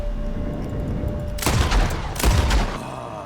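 Gunfire in the Red Dead Redemption 2 video game comes in two loud, close bursts of rapid shots over a low, steady game background.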